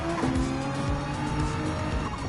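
An Audi R8 race car in Gran Turismo 7 at the Nürburgring roars steadily with tires squealing, a loud continuous engine drone with other cars close around it.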